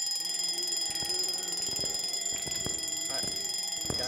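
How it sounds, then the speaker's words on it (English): An alarm clock rings inside the Phasmophobia ghost-hunting video game: a loud, steady electronic tone that runs unbroken for the whole stretch, with a few dull knocks and thuds beneath it. "look, an alarm clock."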